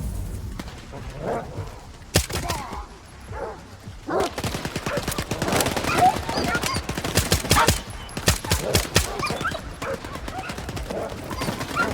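Dog barking in the game Stalker 2 amid bursts of gunfire, with sharp repeated barks and rapid shots clustering through the scene, loud and close, mixed with other game noises.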